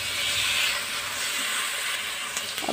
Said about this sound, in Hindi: जल्दी जल्दी से हम इसको हाई फ्लेम पे चिकन को फ्राई कर लेंगे।